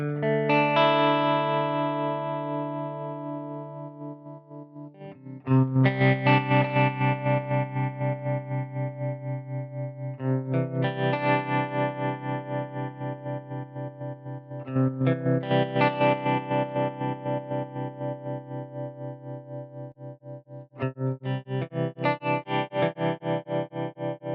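A SONULAB StompStation effects pedal colours a distorted, sustained instrument tone with a pulsing LFO modulation whose waveform shape is swept continuously, heard as several loud repeated phrases with rhythmic wobbling chorus-like throb.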